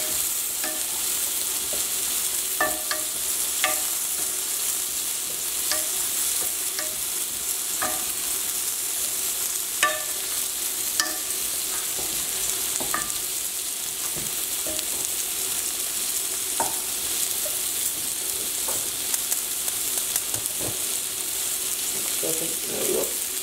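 Chicken and farro stirred with dressing in a hot pan give a continuous sizzle, punctuated by repeated spoon or spatula scrapes and clinks at an irregular pace, close and clear, without talk.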